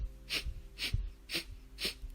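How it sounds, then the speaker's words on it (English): Breath of fire yoga breathing, four short sharp nasal exhalations through the nostrils with the belly pulled in, evenly spaced about half a second apart, close and soft with no talking. "that short, sharp inhalation, pulling the belly in and up, exhaling through the nostrils"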